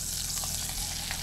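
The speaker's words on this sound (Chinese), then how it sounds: "需要关小火慢慢煎，稍微焖一下" Beef steak sizzles and spits in a hot pan, a steady close crackle of frying with no talk.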